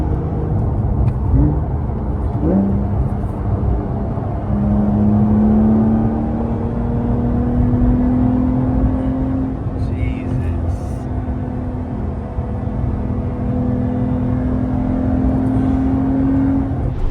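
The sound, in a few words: 2025 Porsche 911 Carrera T accelerating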